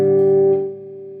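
A single electric guitar note from a riff rings out through a dry amp with no reverb, sustaining loudly and then dropping to a softer held tone.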